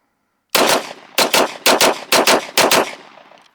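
A Glock Gen 3 pistol fitted with an aftermarket trigger fires about ten rounds in quick bursts of two, loud and close, with a short echo trailing each group and no talk.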